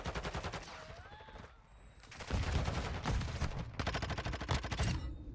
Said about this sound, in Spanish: Por si acaso disparo ahí.